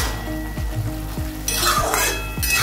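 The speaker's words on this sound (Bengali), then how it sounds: "ফ্রাই করে নেবো শাকটা।" Note greens (shak) with turmeric fry in a pan, giving a steady close sizzle with rhythmic scraping strokes of a spatula every half second or so, brightening as the stirring picks up.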